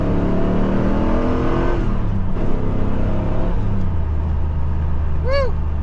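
A powerful, non-supercharged Callaway C8 Supernatural Camaro engine revs and accelerates loudly, its pitch climbing and shifting, with a brief high chirp near the end.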